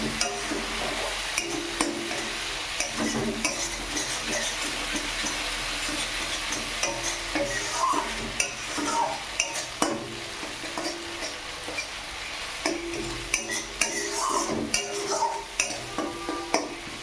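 Tomato paste being stirred into nearly fried onions and garlic in a pan over a lowered gas flame, with a steady sizzle, repeated scraping strokes and occasional utensil clinks throughout.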